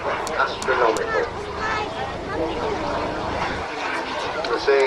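Model twin-jet aeroplane flying overhead at an air show on an ex-RAF satellite airfield, a steady moderate jet roar with crowd chatter and voices in the background.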